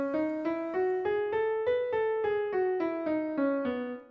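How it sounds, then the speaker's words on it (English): Guitar playing the B Mixolydian scale as single picked notes, about a dozen evenly spaced tones climbing and then descending, clear and close with no talking over them. "So B Mixolydian sounds like this."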